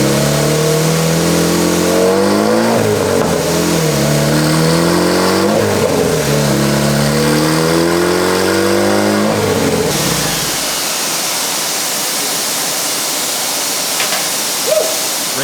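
A turbocharged car engine revs hard on a dyno, a loud, sustained droning roar with rising and falling pitch sweeps for about ten seconds before cutting to quieter hiss and rumble.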